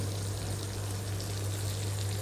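Water pours steadily into a pan of egg drumstick curry, a brief continuous rushing trickle with a low steady hum underneath.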